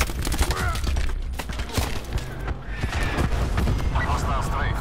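An aircraft strafing run in a military video game, with rapid gunfire bursts and booming impacts rolling through the stretch while radio-style voices talk over the action.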